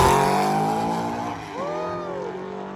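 Two manual-transmission drag race cars launch side by side down the strip, their loud engines roaring and sweeping up and down in pitch as they shift gears, close and dominant.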